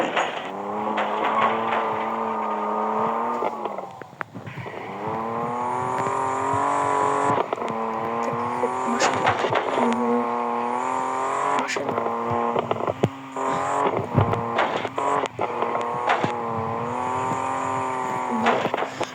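A car drifting in the Street Pro video game, with a loud revving engine that rises and falls in repeated sweeps and screeching tires between shifts, continuous and close.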